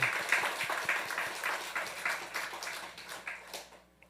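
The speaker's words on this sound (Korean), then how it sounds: "우리 경례 박수 한번 하겠습니다" Worshippers at a Korean Sunday church service give the choir a round of applause, a crowd of clapping hands with some distinct individual claps, gradually thinning and fading at the close.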